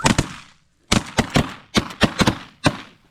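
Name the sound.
gunshots at snow geese while hunting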